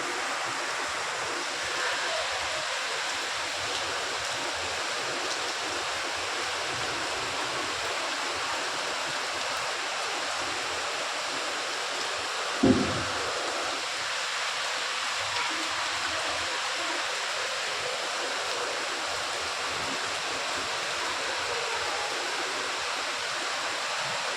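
Heavy rain pours down outside in a steady, dense hiss that holds evenly throughout, broken only by one brief dull knock near the middle.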